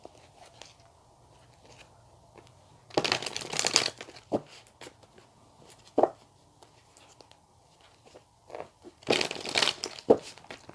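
Tarot cards are drawn and shuffled from a deck at close range in two crisp, papery flurries, with soft scattered card taps between them in a quiet room.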